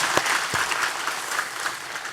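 Sustained audience applause in a church worship service, honoring missionaries and interpreters, with a few sharper individual claps standing out near the start against the even, full clapping.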